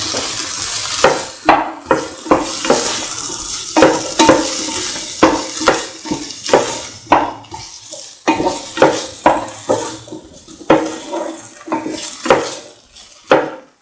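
A spatula working through a cottage cheese and tomato rice mixture in a pan, with repeated scraping strokes and metallic clinks in an uneven rhythm over a soft sizzle, close up.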